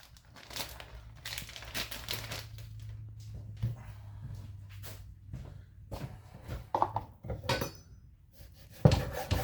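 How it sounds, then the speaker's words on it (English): Knife slicing bacon on a cutting board in a kitchen: repeated sharp cuts and taps with crinkling packaging and clattering utensils, close and moderately loud, no talking. "now we're going to cut up our bacon, get it ready to go in there"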